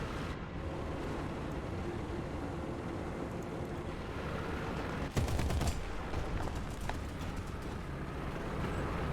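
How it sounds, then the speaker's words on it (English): Video game gunfire heard as a short, sharp burst of shots at mid-clip, standing out over a steady background rumble that continues before and after. "Someone was shooting at me"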